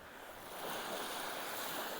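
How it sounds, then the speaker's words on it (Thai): Sea waves wash onto a beach in Denmark as a soft, steady broadband surf hiss mixed with light wind, faint and continuous with no distinct breaks or voices. "ค่ะเป็นบรรยากาศ ชายหาดนะคะ ท้องทะเลค่ะ"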